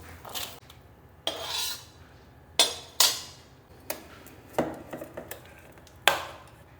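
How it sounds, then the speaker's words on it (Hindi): Mixed dry fruits are stirred and roasted in a kadhai over a very low flame, the spoon scraping and knocking against the metal in irregular bursts of clatter with quieter rustling in between. "बिल्कुल सिम आंच पर इसको भूनेंगे।"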